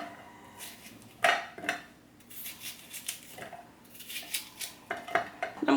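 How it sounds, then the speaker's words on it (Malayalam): A knife cuts an onion into small pieces on a board in a home kitchen, making scattered close taps and clicks with short quiet gaps between them and no talking. "പിന്നെ ഈ ഒരു സവാള ഒന്ന് കട്ട് ചെയ്തിട്ട് കൊടുക്കാം."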